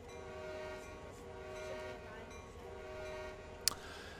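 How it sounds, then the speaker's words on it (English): A Canadian National freight train in Train Sim World 2020 rumbles steadily in a low, continuous drone, with faint rail clatter and a short sharp clank near the end. "It's a freight train."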